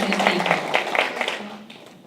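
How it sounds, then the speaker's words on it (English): A small audience at a school board meeting claps briefly, a short burst of fairly close clapping that tapers off within a couple of seconds. "Great round of applause for this wonderful"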